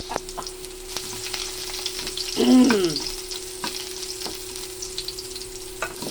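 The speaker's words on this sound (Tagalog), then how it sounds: "mag-start tayo sa pag-susutay ng bawang" Garlic sautés in a hot pan with a constant sizzle, light crackles and a brief swell of louder hissing and scraping in the middle.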